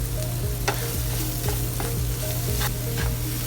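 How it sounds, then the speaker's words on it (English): Mushrooms frying with crushed red pepper and cayenne in a pan, a steady close sizzle broken by a few soft scrapes and taps of a utensil, with no talk. "you just let them fry or saute just for a few minutes"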